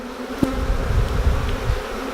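Honey bees buzz close by at a beehive, a dense, steady drone with a sharp tick near the start.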